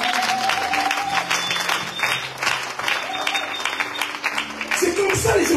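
A church congregation claps and cheers in praise of the Lord, a dense sustained wave of applause and crowd noise with voices and some music tones mixed in.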